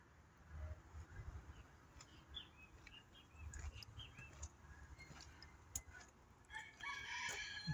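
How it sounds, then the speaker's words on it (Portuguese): Chickens near a chapel and tomb site, with a rooster crowing faintly in the distance among scattered clucks and chirps over a low, quiet outdoor background. "Aqui algumas galinhas, né?"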